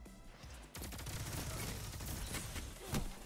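Rapid automatic gunfire from a teammate in Destiny 2 rattles on continuously at a moderate distance, a dense stream of shots with a slightly louder burst near the end.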